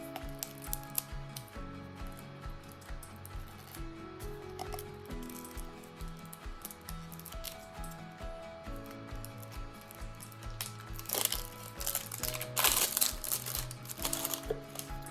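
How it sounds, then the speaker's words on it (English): Plastic packaging is unwrapped with scattered crinkles and rustles, quiet at first and then louder in a burst of crackling toward the end. "It is like all wrapped up in plastic"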